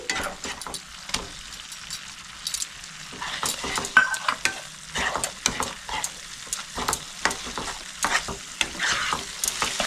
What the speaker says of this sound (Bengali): টমেটো কুচিটা দিয়েও আমি 1 মিনিট মতো নাড়াচাড়া করে নেবো ভালো করে